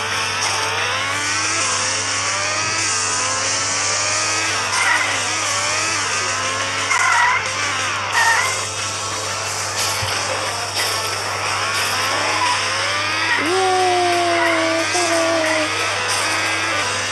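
Virtual cars in Extreme Car Driving Simulator rev and slide with rising and falling engine pitch and screeching skids, steady and fairly loud throughout, with no talking.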